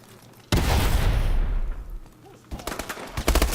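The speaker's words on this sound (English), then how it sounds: "They're actually using flashbangs?" In the Advanced Warfare video game, a flashbang goes off with a sudden loud blast that fades into a ringing wash, followed by bursts of rapid gunfire.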